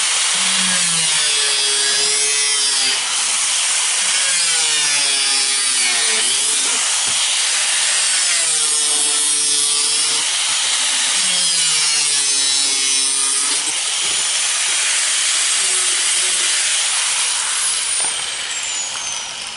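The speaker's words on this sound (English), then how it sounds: "Okay, we're through with our grinder." An angle grinder cuts the top off a metal can, a loud continuous metallic screech with rising and falling whines in repeated passes, close up and alone.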